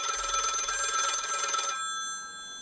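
A telephone bell rings loudly in a continuous rapid metallic trill for under two seconds, then stops abruptly and leaves a fading ringing tail.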